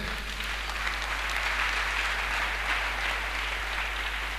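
A church congregation clapping together after a French sermon line, a continuous even wash of applause at moderate loudness with a steady low hum beneath, no voices on top.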